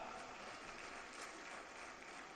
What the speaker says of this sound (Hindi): ज़ोरदार तालियों से उनका इस्तकबाल किया जाए